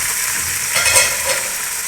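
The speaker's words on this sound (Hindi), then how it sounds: "ये मैं प्याज का कलर निकाल रही हूँ" Onions fry for potato pulao in a pan, a loud, even sizzle with soft stirring swells and no talking.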